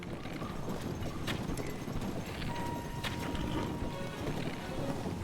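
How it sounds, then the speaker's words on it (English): Horse hooves clip-clopping in Zelda: Tears of the Kingdom, a steady patter of footfalls with wind and ambient game sounds, faint clicks scattered through. "Well, now the horse is just scooting around."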